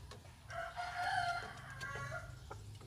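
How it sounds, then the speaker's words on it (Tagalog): Rooster crowing with hens clucking at a small Filipino backyard garden, a drawn-out crow rising above scattered clucks and a low steady background hum, moderately near. "yung manok natin"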